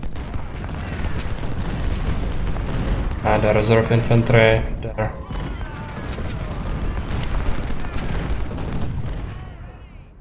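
Howitzer and cannon fire rolls on in a Civil War battle video game as a dense, continuous din of booms and crackling volleys, with someone talking over it.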